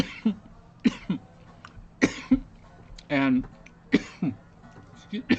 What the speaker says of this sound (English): Skittles are making me cough.